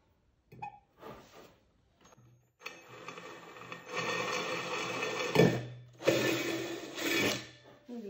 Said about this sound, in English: now I'm going to switch to a bigger drill bit